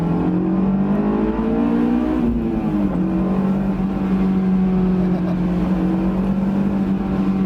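A factory-stock Honda S2000 accelerates hard, its engine note climbing through the revs, dipping briefly at a shift, then pulling steadily again, loud and close throughout.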